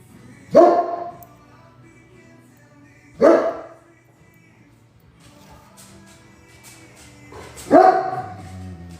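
A big Great Pyrenees lets out three deep, loud barks, spaced a few seconds apart, close by, with quiet moments between them.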